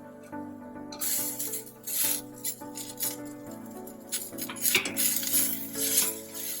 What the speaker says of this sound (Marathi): टोमॅटो चांगली भाजून घ्यायची टोमॅटोही भाजून झाले